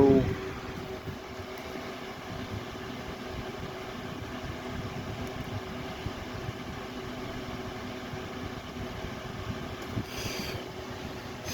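A 2006 Holmes Blizzard HANF76BLZ electric fan running on its low setting, giving a faint, steady whir with a low hum that holds unchanged from start to end.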